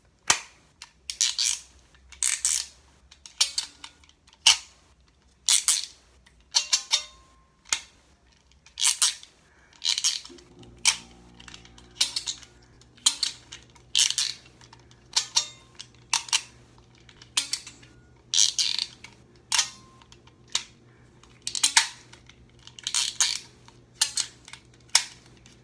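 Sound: McDonald's Bop It toy being pulled and bopped

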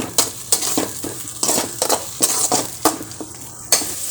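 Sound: chennakuni sautéing in a pan

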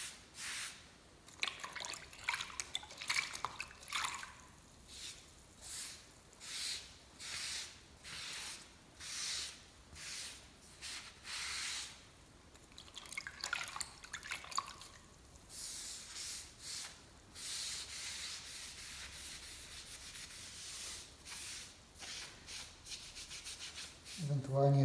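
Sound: washing leftover tile adhesive off tiles with water

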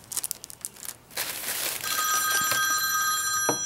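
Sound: phone ringing

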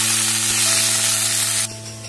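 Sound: fenugreek leaves frying on low flame, stirred

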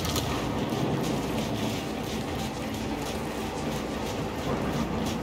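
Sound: rocket train on a turntable in the video game Gears 5

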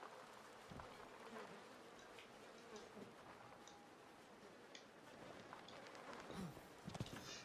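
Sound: flies buzzing inside a house in video game Outlast 2

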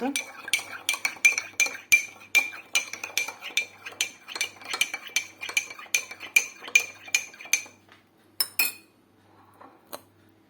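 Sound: stirring bean salad sauce in a bowl

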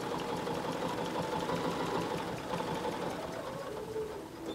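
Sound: sewing machine stitching while quilting

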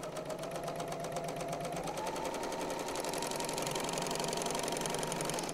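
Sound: serger sewing machine sewing a quilt seam

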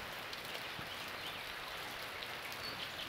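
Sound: rain falling

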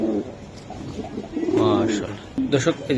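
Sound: racer pigeons cooing

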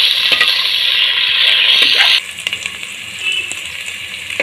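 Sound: onions frying with grated ginger

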